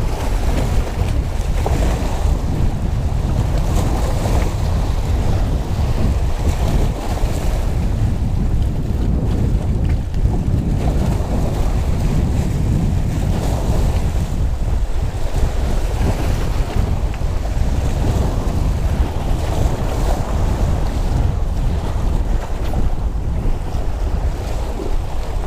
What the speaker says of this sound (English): Hopefully the audio ain't too bad on here though, because it's windy as hell.